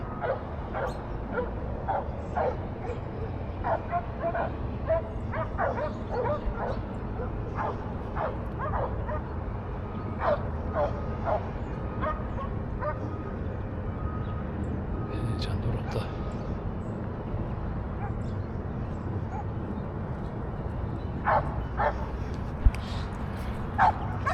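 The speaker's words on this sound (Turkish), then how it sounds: "Köpekler yakın geliyor" A pack of hunting dogs yelps and bays continuously in the middle distance during a wild boar hunt, excited overlapping barks and whines, with voices talking over them at times.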